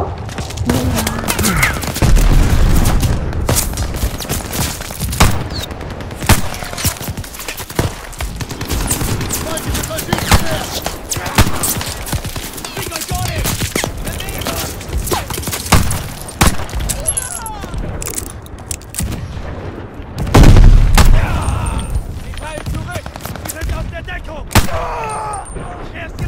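Dense machine-gun and rifle fire in a Call of Duty: Vanguard battle, rapid bursts and heavy booms rolling almost nonstop, with a voice talking over parts of it.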